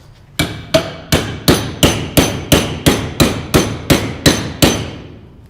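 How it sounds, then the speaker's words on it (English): Twelve evenly spaced hammer blows ring out on a welded steel piece held in a vise, struck from both sides, each hit sharp and metallic with a brief ringing decay, close up and alone. "Let's hit it from both sides."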